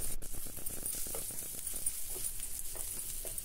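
Sliced onion frying in a little oil sizzles with a steady, soft crackle and light patter, faint and close, with occasional stirring scrapes.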